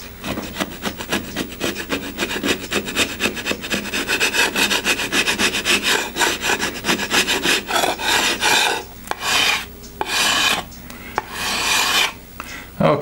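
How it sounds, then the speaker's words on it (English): Old glue being scraped off wood, a rapid series of loud rasping strokes that slow into separate, longer scrapes with short pauses near the end, close up and with no talking. "I have to scrape that off."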